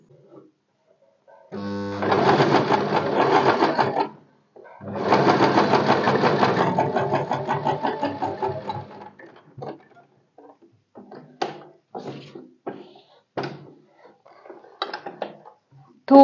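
Sewing machine stitching a blouse back pattern in fabric, with two sustained loud runs of rapid stitching followed by short, quieter bursts of needle movement and pauses while the cloth is turned.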